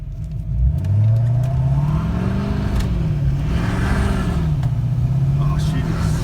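A Duramax LML diesel pickup with a 4-inch straight pipe and new 35-inch tires revs hard and accelerates, its engine drone rising and wavering, loud and close, with a voice briefly over it.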